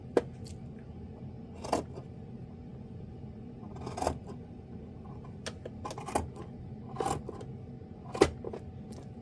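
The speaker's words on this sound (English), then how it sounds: "So now I will trim this seam allowance." Scissors trim the fabric seam allowance of a sewn lounge-wear top, giving a series of sharp, close snips spaced a second or two apart over a quiet background.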